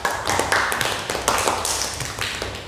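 A class of students applauds a group after its work in an Indonesian classroom lesson. Rapid, uneven clapping comes in bursts that rise and fade over a few seconds, close and fairly loud, with no speech.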